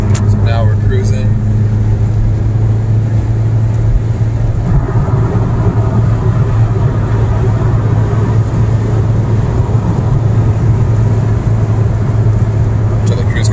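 A Ford Focus SVT cruising in sixth gear at highway speed, a steady low engine drone with road and wind noise running continuously and evenly throughout.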